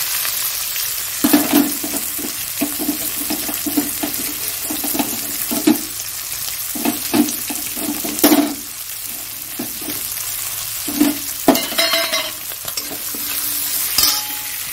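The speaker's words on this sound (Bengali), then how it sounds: "এবার এর মধ্যে পেঁয়াজগুলো দিয়ে দিচ্ছি" Onions dropped into hot oil with cumin seeds, bay leaf and dried chilli, sizzling steadily up close while a spoon stirs in repeated scraping strokes, with a few sharper clatters near the end.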